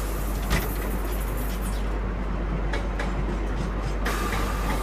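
The Mahanagri Express train rumbles at Kalyan junction railway station, giving a loud continuous roar of rolling wheels and carriages with occasional clanks and rattles, and no talk.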